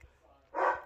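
A dog gives a single short bark, close and moderately loud, after a quiet, low-level room background.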